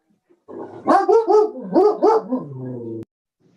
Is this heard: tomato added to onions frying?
no